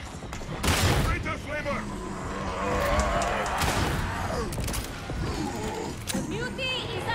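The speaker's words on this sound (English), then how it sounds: "He startled me. I had to shoot him." Gunfire in Darktide, a few sharp bursts fired at close range against a busy, layered game soundscape, with a voice talking over much of it.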